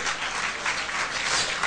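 Audience applause at a Novruz celebration gathering in Baku, a dense steady clapping texture lasting throughout, fairly loud and close with no voices rising above it.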